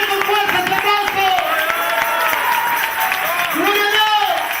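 Church congregation applauding loudly during a sermon, a dense wash of clapping mixed with crowd noise and sustained singing or shouted voices over it.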